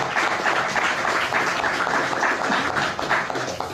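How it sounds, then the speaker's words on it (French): Audience applause at a French stand-up show, after the crowd is invited to clap about a court win over Perpignan: a steady wash of many hands clapping, fairly close and dense, holding level throughout with no talk over it. "vous pouvez applaudir"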